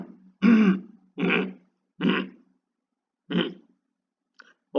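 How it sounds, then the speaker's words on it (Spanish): Four separate short throaty vocal bursts, simulated vocal tics of grunting and throat-clearing, spaced about a second apart with silence between, close and fairly loud. "tenemos garraspear, gruñir, resoplar o toser"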